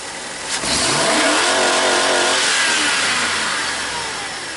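A GM truck engine revs hard at full throttle, a loud close roar that climbs quickly after a brief catch, holds high for several seconds, then eases slightly toward the end.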